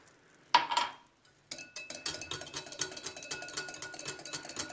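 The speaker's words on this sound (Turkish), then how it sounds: "bunu da iyice karıştırıp böyle sosum hazır bir kenara alıyorum" A spoon stirs milk into a sauce for oven börek in a pot: one brief scrape, a pause, then steady rhythmic clinking and swishing against the pan, close and moderately quiet.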